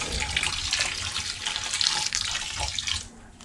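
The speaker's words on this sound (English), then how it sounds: "I'm going to pour in about a cup of beef broth" Beef broth poured from a cup into a pot of chili, a steady splashing liquid stream that runs evenly, close up, then thins and trails off near the end.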